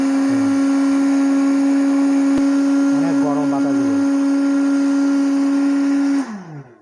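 A Miyako hand dryer runs loudly after being switched on, a steady close motor hum with a strong tonal whine that winds down at the end, and brief speech is heard over it.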